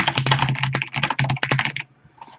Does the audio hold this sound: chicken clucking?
no